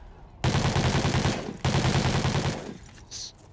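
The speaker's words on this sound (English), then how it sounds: "Sloppy shots there for a moment" Dense, rapid gunfire from a Call of Duty match in a professional CoD League esports game, two loud sustained bursts of automatic fire with a short break between them, close and continuous with no talk over it.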